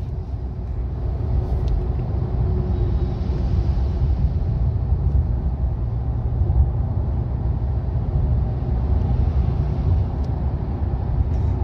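A vehicle overtakes on an Indian road, heard as a steady low engine and tyre rumble, loud and constant throughout with no clear pass-by peak, no speech.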